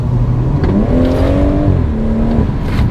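A BMW M140 fitted with a Remus exhaust revs up close and loud. Its engine note climbs and holds in a smooth rising growl, then eases back down.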